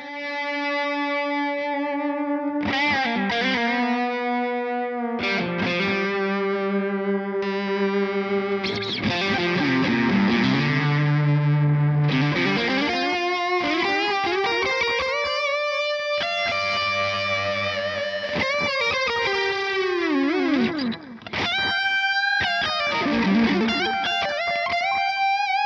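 An electric guitar with a bit of gain runs through a Seymour Duncan Vapor Trail delay pedal, playing a long, continuous phrase of bent and sliding notes with repeats trailing behind, loud and unbroken, with no speech.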